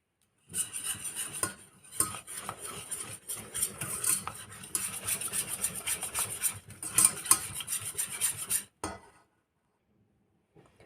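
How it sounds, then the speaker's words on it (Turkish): A spoon stirs yogurt and a heaping tablespoon of flour together in a bowl for wheat soup, a busy scraping and clinking that runs steadily for about eight seconds and then stops. "bir yemek kaşığı tepeleme unumu ilave ediyorum ve bunları güzelce karıştıracağım"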